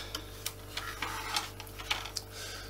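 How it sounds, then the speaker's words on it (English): Screws being undone on a Dyson DC25 vacuum cleaner, a rapid series of small, close ticking clicks from a screwdriver over a low steady hum. "Now we need to undo many screws."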